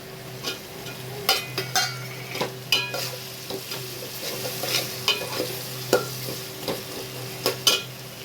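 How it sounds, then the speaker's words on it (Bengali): Garlic frying in a pan while being stirred, a steady sizzle broken by repeated scraping stirs at a fairly regular pace, with no voices. "আর একটুখানি ফ্রাই হোক রসুনটা"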